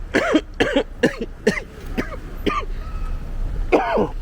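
A run of about eight sharp, harsh coughs in quick succession, close by, with a short pause before the last one.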